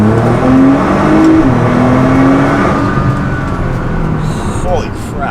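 A Nissan GT-R with a Stage 2 tune accelerates hard in second gear, engine note rising steadily and loud from close inside the car, with a voice briefly heard over it.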